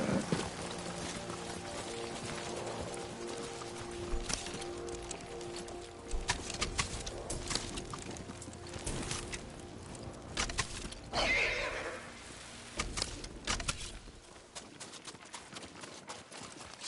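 Horse neighs and hoofbeats in Ghost of Tsushima, a whinny rising near the middle over steady clip-clop and ambient game sound, with busy, continuous background noise and no talk.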